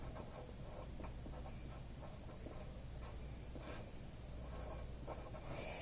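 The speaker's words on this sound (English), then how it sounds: "I'll write the formula down." A pen or pencil scratches steadily across paper while a formula is written out by hand, a close, continuous run of short strokes with no talk over it.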